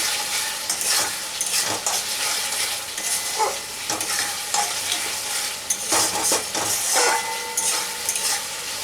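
A spice mixture with turmeric and salt sautéing in oil for moong dal with a katla fish head, stirred continuously in close, loud scraping strokes over a constant sizzle.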